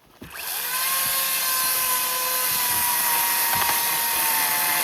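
A battery chainsaw whines up from a brief start into a steady, high motor drone while cutting a large fallen tree, with a few dips and knocks as the chain bites into the wood.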